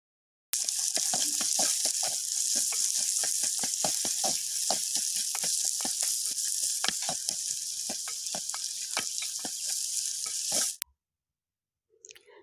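Chopped onions hit hot oil with already-popped mustard seeds in a pan and sizzle loudly and steadily, with frequent sharp crackles and spatters, near and uninterrupted, before cutting off abruptly into silence.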